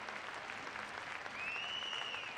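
A crowd applauds at a dressage competition in a Short Grand Prix event, a steady, fairly distant wash of clapping that holds for the whole stretch.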